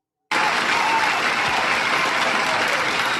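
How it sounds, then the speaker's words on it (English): Dense, steady applause from a crowd starts abruptly after a short silence and continues at an even, loud level for about three seconds. "Applause is a sound that sounds like this."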